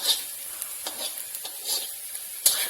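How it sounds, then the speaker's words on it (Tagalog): Dried scallops and radish frying in a pan, giving a bright hiss with scattered stirring scrapes and a sharper clack near the end, close and moderately loud with no voices over it. "Fried mo lang siya hanggang maluto."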